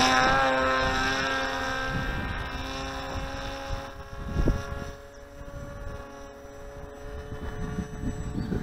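An electric motor on a Kopaqi-B2 RC flying wing whines as the throttle comes up in flight, a thin tonal buzz that fades and swells with distance, overlaid with wind rushing against the microphone.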